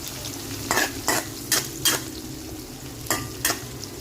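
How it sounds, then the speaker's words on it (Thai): Shallots coated in cornstarch fry in hot oil under a steady hiss, while six loud scraping strokes of a spatula stir them at uneven intervals, up close and with no talking. "แม่ก็ได้เอาหอมแดง ที่คลุกกับแป้งข้าวโพดนะคะเจียวค่ะ"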